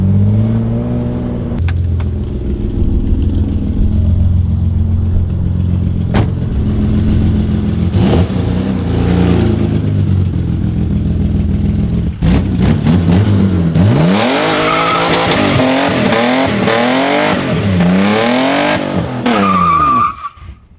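BMW E28 M5 engine revving hard with sweeping pitch rises and falls, tires squealing and skidding in the second half; loud and close, no talk.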